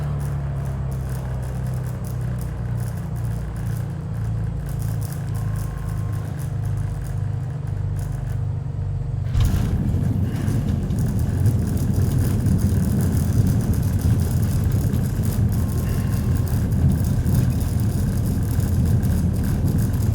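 Mooney Ovation single-engine aircraft in a flight simulator, a steady low engine drone that shifts at about nine seconds into a louder, rougher rumble with broadband rattle, continuous and close throughout.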